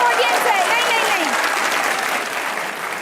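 A studio audience at a comedy talk show bursts into loud, sustained applause, dense and close, with scattered voices and cheers mixed in, easing off slightly toward the end.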